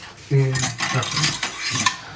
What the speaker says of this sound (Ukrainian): Так, тарілки.